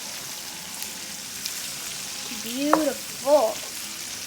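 Shrimp sizzling and frying steadily in a pan, a constant close crackling hiss with brief speech over it.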